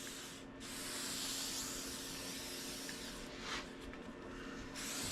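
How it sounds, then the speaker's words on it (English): Unbranded silicone spray is sprayed onto a 1970 Schwinn Collegiate bicycle in a long continuous hiss with a short break, then a shorter burst and a final spurt, close and moderately quiet. "I think we're just going to spray it up and see what happens."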